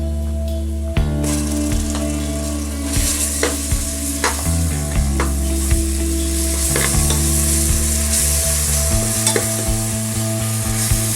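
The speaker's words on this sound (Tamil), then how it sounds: "இந்த நேரத்தில் இஞ்சி பூண்டு பேஸ்ட் போட்டு வதக்கிக்குவோம்." Ginger garlic paste and golden fried onions for plain biryani, sizzling loudly in the pan while a spoon stirs and scrapes in regular strokes, with a low hum steady underneath and no talking.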